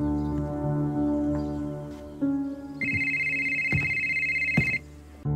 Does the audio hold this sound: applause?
no